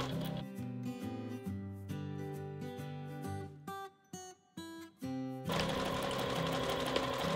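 A sewing machine stitches a bucket bag, running in a steady whirring burst, pausing briefly in short stops and then resuming loudly at close range.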